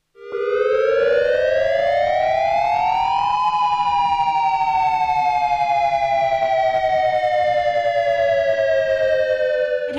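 A loud civil defense siren wails, its tone rising steeply then slowly falling in one long sustained sweep, steady and piercing with no voices.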